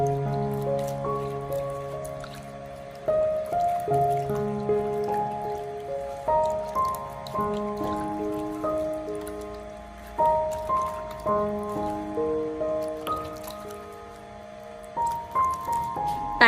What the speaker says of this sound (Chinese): 再用手将白菜清洗干净，把白菜里面的脏东西和虫卵清洗干净